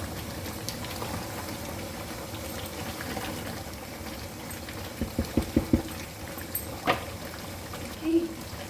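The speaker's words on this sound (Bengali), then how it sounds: "ভালোভাবে বলক উঠে আসা পর্যন্ত অপেক্ষা করছি" Chicken roast gravy bubbles in a pot on the stove, a soft continuous simmer with a few louder pops and plops near the end, quiet and close.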